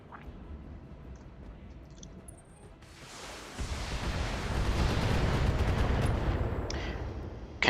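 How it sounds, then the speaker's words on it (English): Missile impacts in BattleTech build into a dense, loud barrage of rumbling blasts and crackling detonations that swell and hold for several seconds, followed by a sharp crack at the very end. "Considerably more than one missile hit me that time."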